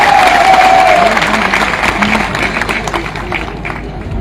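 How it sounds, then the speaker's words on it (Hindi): Large crowd applauding and cheering at a BJP election campaign rally in support of candidate Archana Chitnis, dense clapping loud at first and easing slightly, with a faint voice briefly audible over it. "जरा तालियां बजाकर इनका अभिनंदन करें।"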